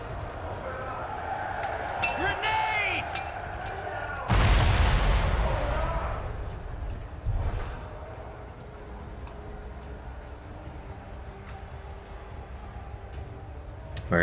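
A grenade blast in The Chronicles of Riddick bursts out loud and broadband, holding for a few seconds before fading into low game ambience, with a voice speaking over the mix.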